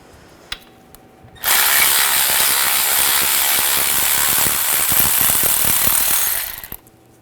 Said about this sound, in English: Then we're going to take this bolt out, use a 18mm socket.